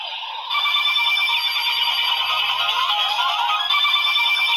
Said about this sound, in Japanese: おー、なんかピロロロロみたいな効果音が追加されてる感じがあるね、通常のものに。